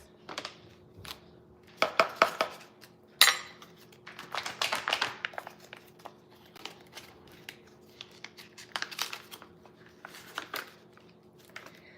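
Onions and celery being chopped for a tuna salad, a run of irregular knife taps and clatter on a board, close and moderately loud, with scattered clinks of utensils and no talking.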